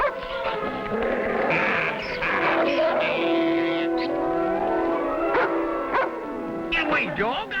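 A dog on a 1955 Western television episode barks, yips and whimpers in an excited run of short calls, mixed with a man's speech and an orchestral score.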